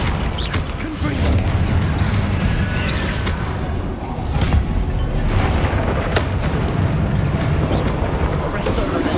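Fiery Confringo explosion spells burst repeatedly amid dense battle noise in Hogwarts Legacy, with deep booms and crackling blasts over a constant rumble while a voice talks throughout.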